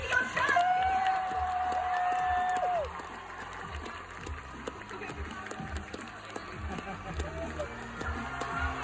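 At TwitchCon Rotterdam 2025, a crowd applauds and cheers for the MCC champions, dense clapping and shouts carrying on under a loud announcer's voice, with a whistle-like tone early on.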